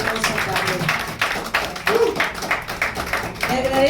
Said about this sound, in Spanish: Un aplauso también para Moroy